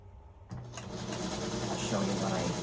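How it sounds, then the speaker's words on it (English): A sewing machine stitches a quarter-inch seam on a quilt. It starts abruptly after a brief pause and settles into a close, steady whirring hum that runs to the end. "It's just literally sewing 1/4-inch seam allowance."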